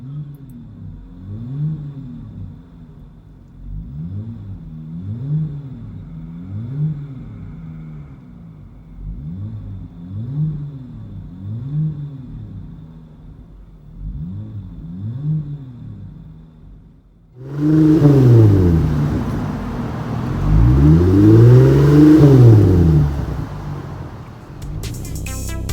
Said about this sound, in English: Interior tone level is mild with this Street Demon True Dual exhaust.